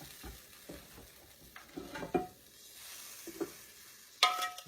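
Beef broth is poured into a hot pan with bits of beef shank and stirred, giving a quiet sizzle with soft scraping and a few faint clinks.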